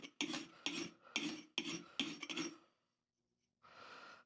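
A vintage axe edge is sharpened by hand, six quick rasping file or stone strokes in a steady rhythm, followed by a pause and one softer, longer scrape, close and quiet.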